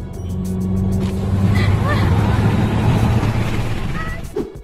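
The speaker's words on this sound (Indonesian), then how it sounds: "terlihat mobil yang dikendarai pengemudi ini mengejar truk Milo yang ada di depannya" A car drives along a road chasing a Milo truck ahead, its engine humming and rising steadily while traffic noise fills the background.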